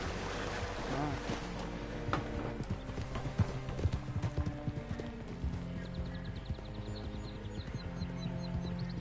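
Horse hooves clip-clop at a steady walking pace throughout in Red Dead Redemption 2, clear and fairly close over a constant background ambience.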